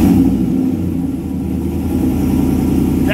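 A 2022 Ram 1500 pickup with a Borla S-Type exhaust running on a cold start, a loud, deep, steady engine rumble that holds close by throughout with no talk.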